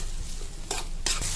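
Carrot stirred in a pan with ginger garlic paste and salt, a steady frying sizzle with two short scraping strokes of the spoon against the pan.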